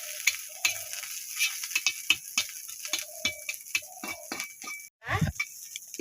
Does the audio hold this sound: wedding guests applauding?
no